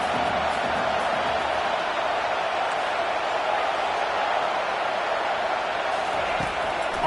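Stadium crowd in a college football video game, Alabama at Michigan, a steady dense roar of many voices held at constant loudness throughout, with a voice faintly audible within it.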